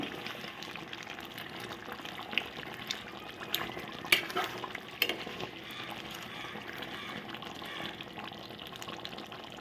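A Rayalaseema-style country chicken curry with yogurt added simmers in a pot, giving a steady close bubbling wash broken by occasional scraping stirs and small clinks.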